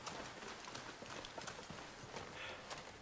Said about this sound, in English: I hear a moose stomp coming.